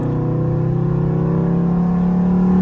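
A stage 2 tuned Dodge Scat Pack pulling hard, heard from inside the car: a steady, loud engine drone rises in pitch under acceleration, with no talking.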